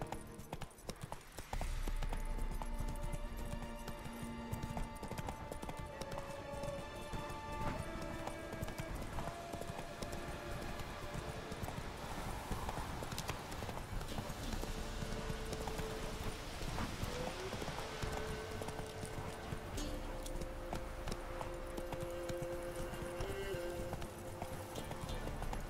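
Horse hooves clip-clop steadily in The Witcher 3 as a rider moves along, a continuous, even trotting rhythm beneath soft game music, fairly quiet throughout.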